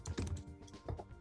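Computer keyboard keys typed in a quick, irregular burst of close clicks while a command is entered to install the Airbrake CLI, with no talking.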